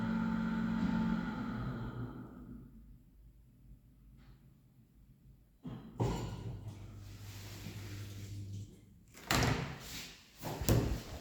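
A modernized KONE traction elevator in Aarhus arrives with a low hum and rumble, then its doors slide open with a clear thud, followed by a few sharp knocks and clunks near the end.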